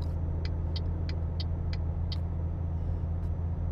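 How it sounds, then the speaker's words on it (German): A truck engine in the Euro Truck Simulator 2 game drones in a steady low rumble under acceleration, with a series of faint regular ticks over the top, and no voices. "So, ich habe hier Gas gegeben."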